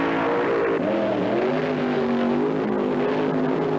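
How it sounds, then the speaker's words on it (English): A top fuel drag race car, the Starliner, does a burnout at a 1975 IHRA drag strip in Rockingham, North Carolina, a loud steady engine roar with shifting harmonic tones running throughout. "Jim Hundley burns out the Starliner in lane 1"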